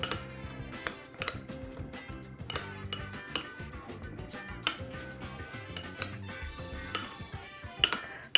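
Fish is mixed with olive oil in a dish, heard as a run of close clinks and taps of a utensil against the dish, irregular and fairly quiet, with no talking.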